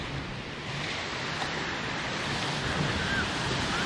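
Ocean waves break and wash continuously onto a beach, a steady broad roar close by with some wind buffeting the microphone and no clear voices.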